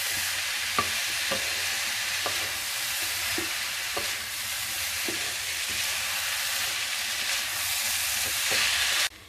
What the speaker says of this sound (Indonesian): Kita aduk hingga rata dan matang seperti ini.